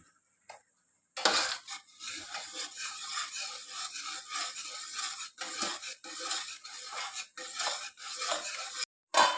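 A spoon scrapes and stirs salt through chana pulao in a metal pot, a continuous gritty rubbing with rhythmic clinks, close and moderately loud, stopping briefly near the end; no talking.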